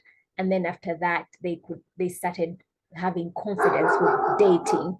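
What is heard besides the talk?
dogs barking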